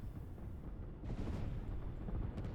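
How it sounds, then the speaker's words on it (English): Deep rumbling explosions from the Line War video game roll out as a continuous low-pitched barrage, quiet overall, with a louder burst about midway. "Wild explosions, they look wonderful."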